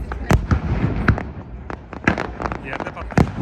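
Low-bursting fireworks at the Aschaffenburg Volksfest opening display pop and crack in rapid, irregular succession close by, a dense string of sharp reports over a background rumble.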